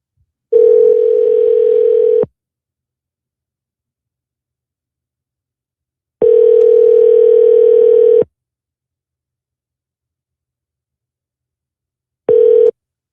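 Three long telephone ringback tones sound loud and clear with about four seconds of silence between them, the last one cut short as the call goes to voicemail.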